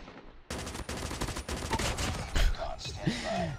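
Rapid gunfire through walls in Call of Duty Mobile, a loud continuous automatic burst with sharp repeated cracks, followed by a few scattered shots and whooshing game effects near the end.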